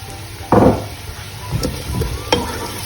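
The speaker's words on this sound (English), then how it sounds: "I'm going to cook the onions until they're nice and tender" Chopped onions cook gently in hot oil in a pan, giving a steady low sizzle broken by a few scraping stirs.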